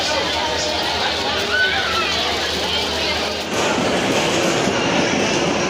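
The Mahanagar intercity train on the Dhaka–Chattogram route rolls along the rails with a continuous, loud rumble and rhythmic wheel clatter close by, while people talk over it.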